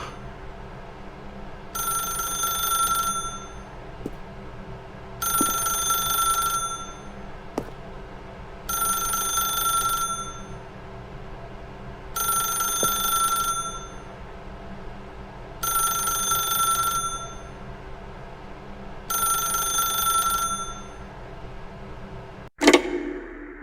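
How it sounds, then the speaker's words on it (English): A telephone rings in The Stanley Parable video game: six evenly spaced bursts of a bright electronic trill, each about a second and a half long with pauses between, ending in a short click as it is answered. "then pick up the phone"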